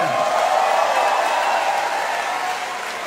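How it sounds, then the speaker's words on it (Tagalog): A crowd at a Philippine political gathering for a party-list chairman gives loud, dense applause that holds steady, then eases off slightly near the end. "Isang malakas na palakpak naman dyan!"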